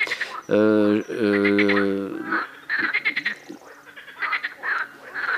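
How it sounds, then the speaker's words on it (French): Frogs croak loudly and close by in two long harmonic calls, followed by shorter, fainter chirping croaks. "Les grenouilles, c'est un problème."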